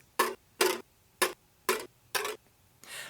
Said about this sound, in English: This sound is when I just took the whisk and kind of rolled it on the back of the guitar.